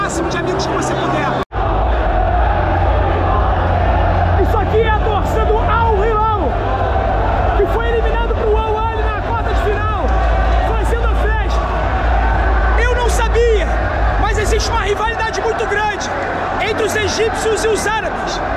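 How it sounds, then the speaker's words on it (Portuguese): Al Hilal football fans in a stadium in Saudi Arabia at a world club tournament: a continuous roar of crowd noise with rising chants and cheers, loud and distant-sounding, with a voice talking over it. "a torcida do Al Hilal presente no estádio tá fazendo a festa"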